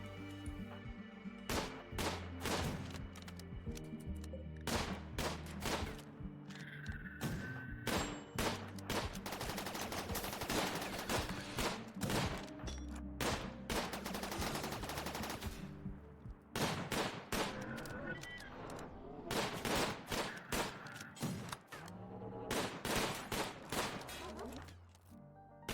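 Rapid bursts of video game gunfire in Imps versus Zombies, aimed at pikemen, crackle loud and close in dense volleys with short gaps between them.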